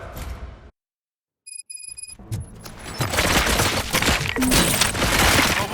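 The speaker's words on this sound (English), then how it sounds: "Gunshots? What's going on?" A fusillade of gunfire in the video game Robocop: Rogue City erupts after a brief silence and a few electronic beeps, dense, loud, rapid cracks continuing without pause to the end.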